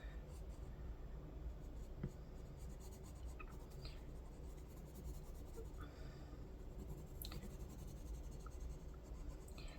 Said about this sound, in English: I just love the feel of the pencil and paper.